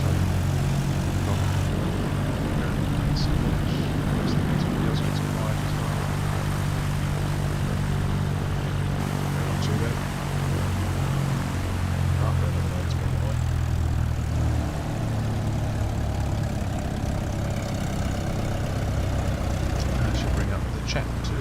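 Cessna 172 propeller aircraft taxiing in a flight simulator, a steady droning engine hum that holds close and loud throughout, with a person talking over it.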